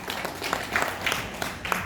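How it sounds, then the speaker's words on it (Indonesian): A small audience at a business presentation claps briefly, with loose, uneven hand claps popping through at close range for under two seconds. "Tepuk tangan buat kita semuanya."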